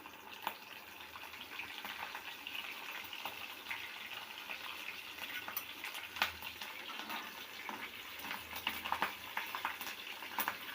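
Mustard seeds, cumin and cut green chilies frying in hot oil in a pan for a Telugu okra curry, a steady close crackling sizzle with scattered sharp pops throughout, no voices.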